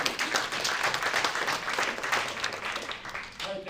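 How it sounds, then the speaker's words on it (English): An audience at a tech demo night applauds, a dense continuous clapping that stays full and fairly loud before easing slightly toward the end, with a voice briefly mixed in. "round of applause for Vism AI"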